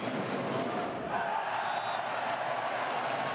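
Volleyball arena crowd at a CEV Champions League match, Roeselare against Resovia Rzeszów, reacting to a serve: a steady, dense roar of many voices that swells slightly and holds loud throughout.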